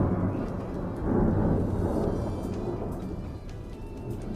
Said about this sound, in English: What causes the sound of thunder?